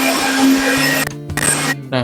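An electric fan runs close behind the camera in a room with no air conditioning, giving a loud, steady whirring hum with a faint tonal drone. The sound shifts and breaks up in the second half.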